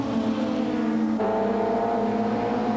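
Italian Supertouring race cars at Mugello in 1995 roar past with a steady high engine drone and a sudden pitch shift partway through, loud and continuous with no talk.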